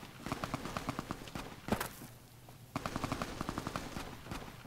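Rapid bursts of Tommy gun fire at a baby gecko in Fallout New Vegas, two strings of quick rhythmic shots split by a louder single blast and a short pause, loud and close.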